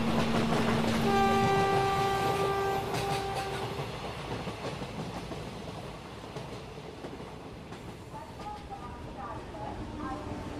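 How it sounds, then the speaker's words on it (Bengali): A train sounds a long, loud horn blast on arrival, then its rumbling carriages slow and fade toward a stop, with faint brake squeals near the end. "ট্রেন থামল।"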